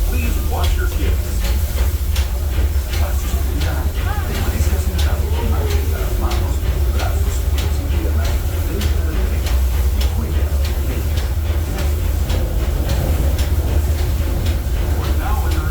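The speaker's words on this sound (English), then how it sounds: "welcome aboard the Disneyland Railroad" Ride aboard the Disneyland Railroad steam train pulled by the locomotive Fred Gurley, a steady rumble and hiss of the moving train with clattering wheels running throughout, a narrator's voice speaking over it.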